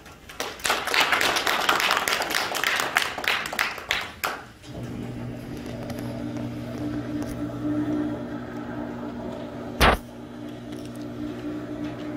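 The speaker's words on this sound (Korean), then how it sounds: "큰 박수로 맞이해 주시기 바랍니다" Audience claps to welcome a lecturer to a climate and Green New Deal policy talk, a short burst of scattered hand clapping for about four seconds that then drops away into a low, steady room hum.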